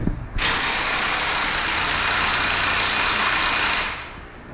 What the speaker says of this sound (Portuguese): A gente fez aqui uma adaptação e fez o motor da BM girar